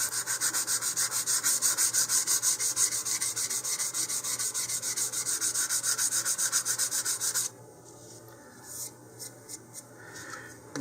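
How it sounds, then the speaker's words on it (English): A model rocket's seams are lightly sanded by hand, rapid rhythmic back-and-forth rasping strokes close up, steady and loud for several seconds before stopping, followed by a few softer scattered rubs. "I'm just going to sand it lightly"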